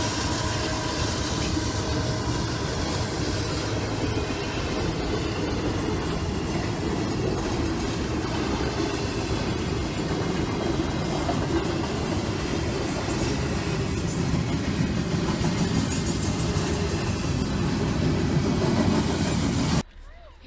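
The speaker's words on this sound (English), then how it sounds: "This is I003, a daily intermodal out of Kearney, New Jersey, that runs to Bedford Park," Loud, steady roar of CSX I003, a daily intermodal freight train, rolling close by for its full length with rumbling wheels and faint clatter, cutting off abruptly at the end.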